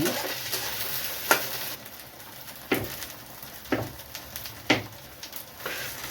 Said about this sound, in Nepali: प्याज यति भुटे पछाडि खोर्सानी हालिदिनु होला है त।